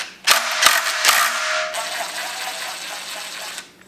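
A ratchet wrench works a 10 mm bolt loose on a Mazdaspeed3 MZR engine during a teardown, giving a few sharp close clicks and bursts of mechanical ratcheting followed by a steadier whirring rattle that fades out.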